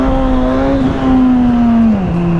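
A Suzuki GSX-S 1000 motorcycle engine, a 145-horsepower naked bike, holds a loud, steady high rev whose pitch rises slightly, then drops near the end, close by and without talk over it.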